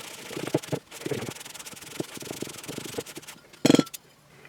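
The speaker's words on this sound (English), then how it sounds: "We're on the baking soda side, we're going to give it 40 rubs." Rubbing baking soda paste across knife scratch marks on a ceramic plate: a steady rhythmic scrubbing and rasping, stroke after stroke, close up, with one sharper scrape near the end.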